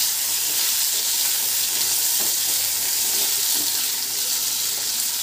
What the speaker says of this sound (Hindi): पलट पलट के इसको अच्छे से फ्राई करेंगे।